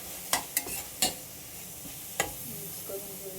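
A spoon stirs garam masala and red chilli powder into crab curry in a pan, giving a few short, close scraping strokes against a faint background.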